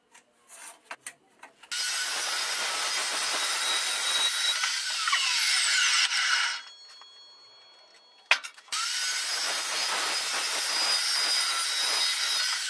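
Steady rasping saw strokes cut through pipe pieces for a round-rail trailer lift, loud and close, with a pause midway before the rhythmic sawing resumes.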